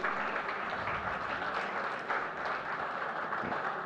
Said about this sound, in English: Big round of applause for Architect Jensil John, please.